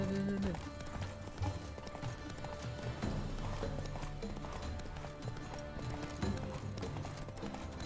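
A horse gallops in The Witcher 3, hooves clip-clopping in a fast steady rhythm with occasional neighing, set against game music and sound effects.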